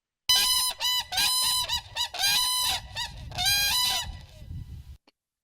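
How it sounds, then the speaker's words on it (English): Two whooping cranes giving their unison call in North America, loud overlapping honking bugles in rapid repeated bursts, close and continuous for several seconds, then breaking off abruptly. "in this call, you're going to hear two birds calling at the same time in sort of an overlapping cacophony of sounds"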